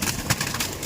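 Pigeons in a loft, with soft cooing and bird calls in short repeated bursts close by, over low background rustle.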